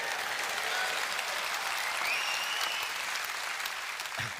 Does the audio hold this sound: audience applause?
yes